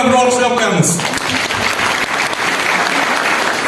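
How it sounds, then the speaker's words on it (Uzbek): Audience applause breaks out at a talk after people are praised for earning money as children, a dense wash of clapping filling the room steadily from the first second, with a brief speaking voice over its opening moments. "mana shu insonlarni olqishlab qo'yamiz."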